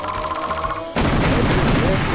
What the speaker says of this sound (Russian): Ух ты, мега взрыв.